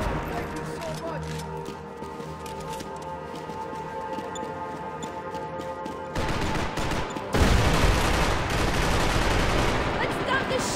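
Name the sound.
gunshots in the Max Payne 3 video game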